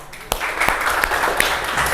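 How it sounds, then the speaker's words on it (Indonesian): A small classroom group claps for a student, a short burst of light, scattered applause lasting under two seconds, fairly close and without talk over it. "kita beri aplaus untuk Mbak Siska"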